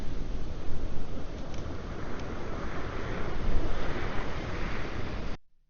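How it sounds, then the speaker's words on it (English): Storm waves crash on the shore at Cromer, Norfolk, during Storm Amy: a loud, continuous roar of surf with heavy wind buffeting the microphone. It runs throughout, then cuts off abruptly at the end. "here comes another big wave"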